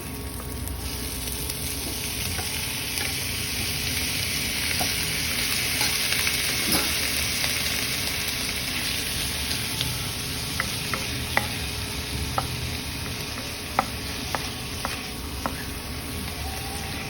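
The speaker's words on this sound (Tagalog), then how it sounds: "we're gonna add the ground beef" Ground beef fries with bitter melon in a pan, a continuous close sizzle overlaid with scraping stirs and scattered sharp ticks and pops toward the end, and no voices over it.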